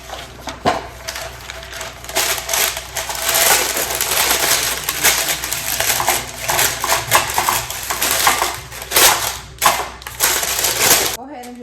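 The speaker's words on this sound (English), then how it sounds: "you just line your pan with your parchment paper" Non-stick parchment paper crinkling and crackling as it is pressed into a cake pan, a loud, continuous rustle with sharp crunches throughout.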